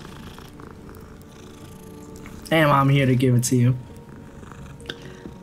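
A cat purrs in the Hogwarts video game, a loud close rumbling burst lasting about a second amid quieter game sounds, with a person talking in the clip.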